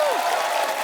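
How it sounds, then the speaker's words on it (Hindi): Studio audience applauding guests, champion wrestlers and a table tennis player, on a Hindi comedy talk show stage. A brief, dense, steady wash of clapping runs loud throughout. "जोरदार तालियों से स्वागत कीजिए"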